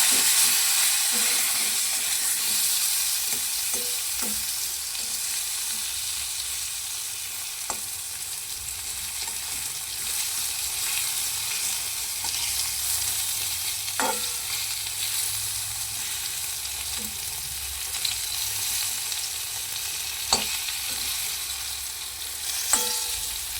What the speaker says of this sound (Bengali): বাকি পটলগুলো দেখো ভাজা ভাজা অর্ধেক হয়ে এসেছে।